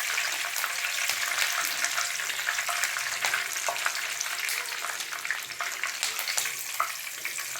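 Curry leaves sizzle in hot oil while frying a corn flakes mixture snack, a dense, steady crackling hiss with small spitting pops, close and fairly loud, without talk.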